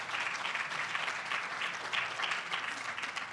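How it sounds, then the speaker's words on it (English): Audience clapping at a leadership plenary session, a brief, moderately quiet burst of scattered applause from a room, heard alone. "you can clap"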